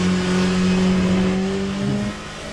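Porsche race car engine in Le Mans Ultimate, a loud, steady high-revving drone with strong harmonics that shifts pitch near the end as the car climbs through a corner, with no talking.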